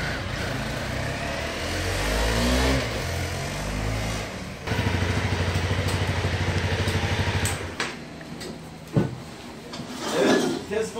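An enduro motorcycle engine revs and rumbles nearby in a steady drone that changes pitch as it pulls away. Voices talk over it and a few sharp knocks follow.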